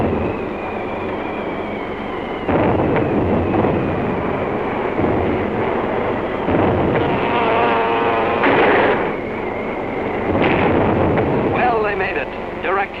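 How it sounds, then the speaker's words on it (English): Heavy 600-pound TNT bombs explode in direct hits on an aircraft carrier in a 1943 wartime film, a series of loud rumbling blasts and roaring bursts layered under a narrator's voice. "Direct hits with those 600-pounders of TNT blowing up right in Hirohito's face"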